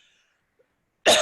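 A single short, sharp cough bursts out at the very end after near silence.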